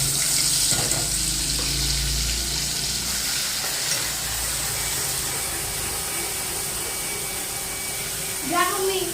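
Spices temper in hot oil for a chicken curry, making a continuous close sizzle and hiss with occasional stirring knocks, under a low background hum and brief voices.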